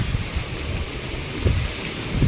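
A steady, broad rush of falling water at Kindri waterfall, viewed from a forest-department viewpoint, mixed with low, gusty wind rumble buffeting the microphone.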